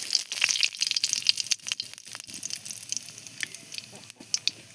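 Cumin seeds crackle and sizzle in hot oil for a pot of dal, a steady close, busy frying hiss with scattered pops and crinkly bursts throughout, with no talking.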